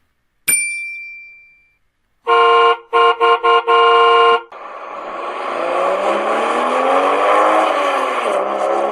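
A sharp ding, then a car horn honks in several quick blasts, followed by a car engine revving and accelerating loudly.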